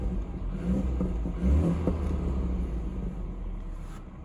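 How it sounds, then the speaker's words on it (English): Low rumbling exhaust of a forged 2014 BMW 220i with N20 engine revving up and settling, moderately close, with a deep throaty drone throughout and no talking. "let me get some sounds from the exhaust"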